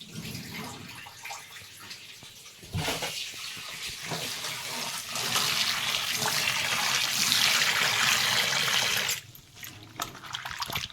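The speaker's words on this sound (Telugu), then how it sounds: "కాకరకాయలు కడగాలి ఇప్పుడు" Tap water runs steadily while bitter gourds are washed under it in a home kitchen, a soft close splashing stream that grows fuller midway then drops back to lighter trickles, no talk.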